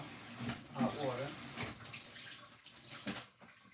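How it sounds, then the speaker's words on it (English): Hot water running from a kitchen tap over a cleaning cloth being rinsed, a close, steady splashing rush with squelching as the cloth is worked, fading out near the end. "Rinse that off, hot water."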